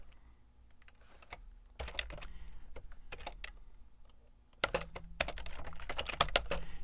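Code being typed on a computer keyboard: quick bursts of crisp key clicks in uneven runs, close and fairly quiet, with short pauses between flurries.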